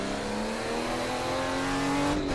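Car engines drone steadily in the racing game Assetto Corsa during a Japanese drift event, a loud sustained revving whine with a steady pitch and no talking.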